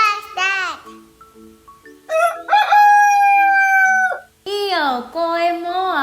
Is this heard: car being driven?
no